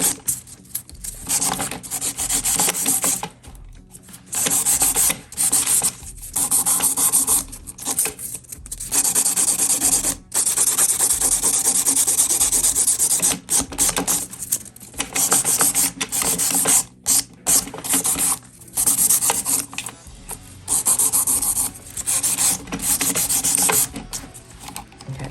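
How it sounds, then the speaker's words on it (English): Rough, steady rasping of a hand nail file shaping nails for a gel enhancement, close up and fairly loud, in repeated strokes with brief pauses between runs. "I always like to do a little hand file."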